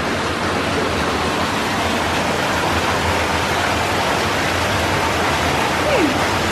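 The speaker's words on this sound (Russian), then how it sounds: "под нами какая-то типа река и там плавает рыбы." A river flowing beneath a spot where people sit, giving a steady, even rush of water noise that fills the whole moment without a break, close and fairly loud.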